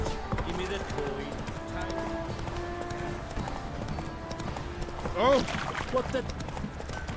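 Geralt's horse Roach trots in The Witcher 3 video game, giving steady rhythmic hoof clops under game music, with someone talking over it and a brief louder swoosh near the end.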